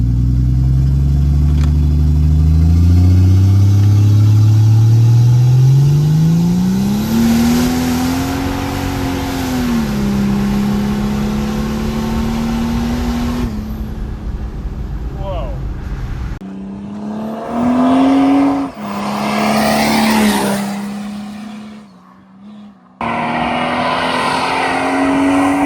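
An old Mercedes OM603 turbo diesel with a large HY35 truck turbo revs up hard on slight boost, pitch climbing steadily as it accelerates, then holds a high drone with a few shifts and brief drops, loud and close.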